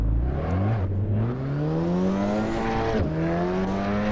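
A VW pulls away in a sim racing game, its engine revving up through rising pitch with a clear gear change partway, then climbing again through another shift, loud and close with no talk.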